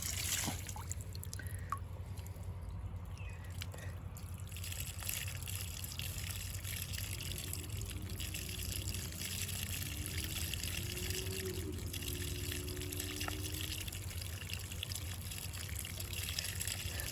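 Water runs steadily into a wild game washer bucket where fish are being rinsed, making a faint, continuous trickling gush that carries on without a break.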